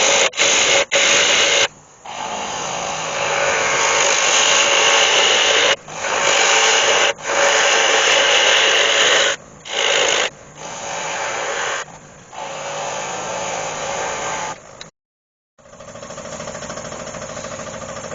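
An oak scoop spins on a wood lathe as a cutting tool works the wood, a loud rasping, hissing cut in long bursts broken by short pauses and a longer stop near the end.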